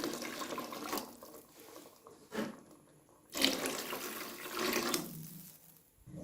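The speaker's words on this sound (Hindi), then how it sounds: "अब इसके बाद मैं इसके अंदर पानी ऐड करती हूँ।" Water is poured into a cooking pot of boiled black-eyed peas (lobia) while making pulao, a running, splashing pour in a few bursts with short pauses between, fairly close and moderately loud, with no talking.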